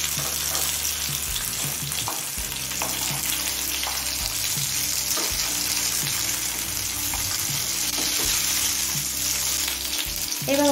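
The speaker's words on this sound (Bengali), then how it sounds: "এবার অপর সাইডটাও কিছুক্ষণ ভাজা হতে দেবো।" Pointed gourd (potol) sizzles steadily in hot mustard oil over a high flame for a Bengali potoler jhal, with the frying loud and continuous and the occasional scrape of stirring throughout.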